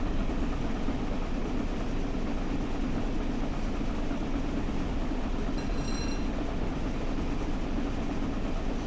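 Flying Scotsman steam locomotive in Train Sim World 5, pushed toward 100 mph: a dense, continuous rumble and roar of the running engine and rolling stock, steady and loud throughout, with no talk.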